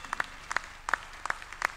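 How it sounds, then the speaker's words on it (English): Sparse, scattered applause from a convocation ceremony audience at a university Founder's Day: a few faint hand claps land in small clusters at a steady rhythm, thin and distant rather than a full ovation. "Give me a round of applause, please."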